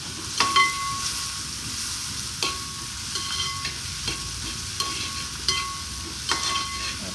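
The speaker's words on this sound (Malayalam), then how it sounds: "നമ്മൾ ചിക്കൻ കറി ഉണ്ടാക്കുന്നുണ്ട്" Chicken curry cooking in a pan, with steady sizzling and frying and a few sharp scraping stirs at regular intervals, close and fairly loud, with no talk.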